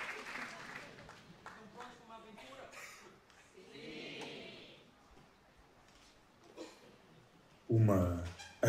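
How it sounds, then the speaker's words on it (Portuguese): Audience at a school cultural show applauding a Peter Pan performance, a modest spread of clapping mixed with chatter and laughter, under an announcer's voice, ending with a loud close thump. "Senhoras e senhores, aplaudam o incomparável Peter Pan e o seu pirilampo."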